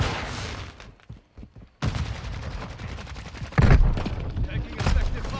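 Gunfire in Call of Duty Modern Warfare II from an M4 'Union Guard' rifle: sparse shots first, then after a brief lull a sustained loud volley with heavy booms, close and continuous.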